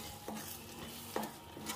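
Pav bhaji masala mixture stirred in a pan over a low sizzle, with two or three distinct scraping strokes of the spoon, close and fairly quiet.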